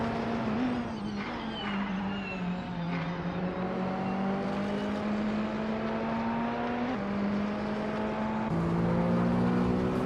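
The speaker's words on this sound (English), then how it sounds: "Dank Nuggins is driving a 2013 Peugeot 208R2, a compact rally car known for agility" A 2013 Peugeot 208R2 compact rally car races in a video game, its engine droning steadily with tonal gear shifts and pitch steps throughout, sustained and fairly loud with no talk.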